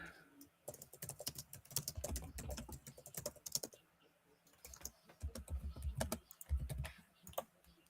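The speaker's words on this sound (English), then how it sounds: "Typing away there on that keyboard" Fast clicking of keys on a computer keyboard during a Man U vs Man City watchalong, coming in bursts with pauses, fairly close, alongside background chatter and a low hum.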